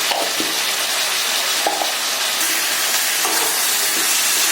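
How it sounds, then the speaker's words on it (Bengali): Chicken pieces with dried red chili powder are sautéed for Mughlai chicken in a hot pan, giving a loud, unbroken sizzling hiss with occasional clicks from stirring. "ভালো করে একে কষতে হবে।"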